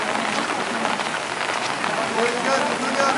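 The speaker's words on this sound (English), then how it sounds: "It's a wet and rainy day" Steady rain patters on a surface close by at the end of July, a dense hiss of drops with occasional louder splashes and faint voices underneath, near fibreglass fishing boats tied together as a stage.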